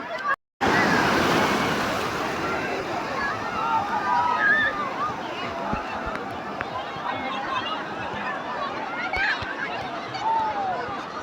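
Sea waves wash onto a busy beach at Digha with a continuous roaring surf, some wind noise against the microphone and voices of people nearby.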